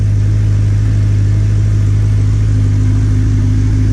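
An Audi R8 engine with a new aftermarket exhaust holds a deep, steady, loud rumble throughout, close by, with no talking.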